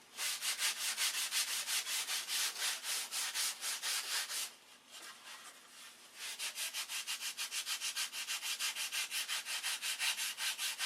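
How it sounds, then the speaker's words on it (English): Steady hand sanding of wood by a boat builder, rapid rhythmic back-and-forth strokes close up, pausing briefly midway with softer scraping before resuming the even rubbing rhythm. "I know it's boring to watch me sand"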